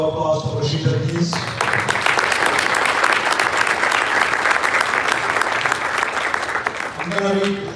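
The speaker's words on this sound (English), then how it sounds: "Extra round of applause for Rashida" A crowd at a Ramadan iftar fundraiser in Michigan breaks into loud, sustained applause that swells and holds for several seconds, with some voices mixed in near the start and end.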